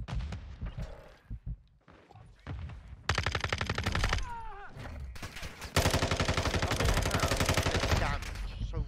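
Rapid full-auto bursts from the Hurricane submachine gun in the Call of Duty Modern Warfare II beta, two long sustained strings of loud fire after some shorter shots and game effects, with a player's voice mixed in.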